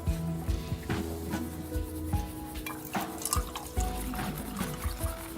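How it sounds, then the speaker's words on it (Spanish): Water poured from a container into an upper vessel during a classroom physics demonstration, a steady splashing pour running through the clip alongside a tonal background. "vierta agua en el recipiente superior"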